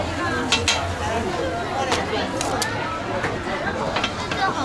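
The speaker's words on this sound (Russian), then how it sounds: "Здесь жарят вонючий тофу." Stinky tofu frying at a busy street food stall in Wuxi, a steady sizzle under crowd chatter with occasional clinks of utensils and pans.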